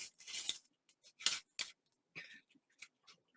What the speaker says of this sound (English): I'm just going to kind of fussy cut around